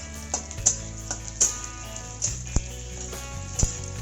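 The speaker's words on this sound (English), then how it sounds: "I am going to add 2 bay leaves and the whole garam masalas into it and let it fry for some time" Onions fry in oil with two bay leaves and whole garam masala for a Bengali-style aloo chicken, giving a soft, steady sizzle under light background music, with a few faint clicks and taps scattered throughout.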